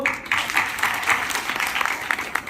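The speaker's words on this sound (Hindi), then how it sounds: "उनके लिए एक जोरदार ताली हो" An audience at a large association convention gives a loud, sustained round of applause, many hands clapping densely and evenly throughout with no talk over it.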